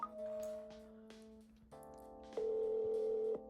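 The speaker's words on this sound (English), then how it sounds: "So now I'm going to test with a real phone call" A phone call going out through an AI call gatekeeper: steady dial and ringback tones sound in stages, first a lower tone, then a louder higher tone that holds for about a second, with no talking.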